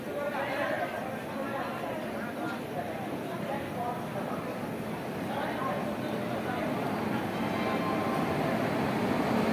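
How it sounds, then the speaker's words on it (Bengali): Steady rumbling and clatter of a train pulling into a station in West Bengal, with a dense crowd murmuring throughout over a continuous mechanical roar. "চলে আসলো সেই ট্রেন"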